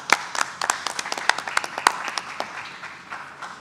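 An audience applauds members of the National Guard with a steady burst of claps that peaks early, then thins and fades over a few seconds.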